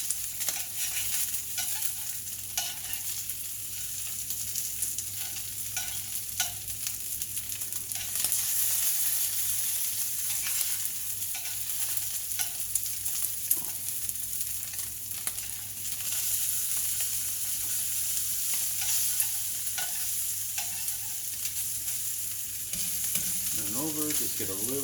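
A5 Wagyu beef frying in a pan with no added oil, its rendered fat pooling as it cooks, gives a steady close sizzle and crackle that runs on without a break, with faint stirring or scraping sounds over it.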